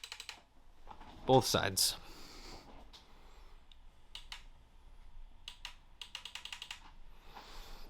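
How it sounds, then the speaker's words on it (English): Paddle shifters on a racing wheel clicking in quick, crisp bursts, close and fairly quiet, with a brief spoken phrase near the start. "it is a paddle shifting. It has a really nice click to it too."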